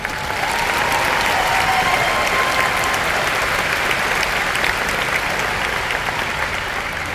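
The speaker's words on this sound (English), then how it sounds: "Please join me in giving them another round of applause." A large commencement audience at the University of Hawaii at Manoa applauds the band, sustained even clapping from a big crowd throughout without a break.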